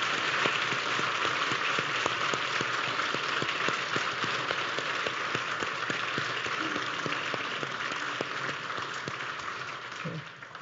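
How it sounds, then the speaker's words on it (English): A church congregation applauds performers after a Palm Sunday Passion portrayal, with sustained even clapping that fills the hall for about ten seconds and sounds slightly muffled. "Let's give them a nice round of applause"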